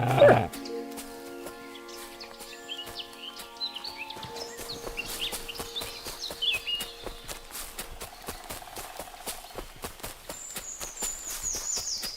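Mutt, a dog in the medieval game Kingdom Come: Deliverance 2, barks and whimpers close by over clip-clopping horse hooves and a sustained musical score.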